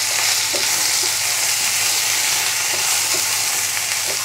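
Black pepper and other spices frying with vegetables in a pan for a Bengali catfish curry, a loud continuous sizzle with soft stirring scrapes and no voices.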